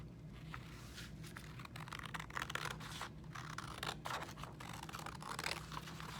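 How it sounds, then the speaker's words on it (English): Quiet, repeated snipping and crisp paper rustles as scissors cut through paper, a steady series of small cuts over faint background hum. "I'm using scissors"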